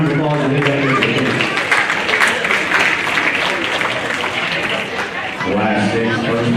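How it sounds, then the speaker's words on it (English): Applause from the crowd at a junior livestock show swells and fades across several seconds, many hands clapping with background chatter, while a voice speaks over the start and end of it. "Let's give those kids a big round of applause"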